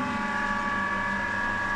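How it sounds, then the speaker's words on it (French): A Corman self-priming pool filtration pump motor, rated 22 cubic metres per hour, runs with a steady, close electric hum and whine, constant and unbroken, with no talking. "Regardez au niveau du filtre, la pompe d'amorçage et l'auto-amorçante."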